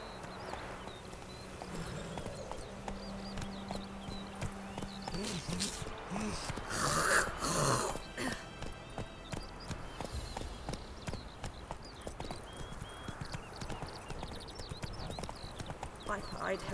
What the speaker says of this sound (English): We can practice riding. I am absolutely horrible at horse riding.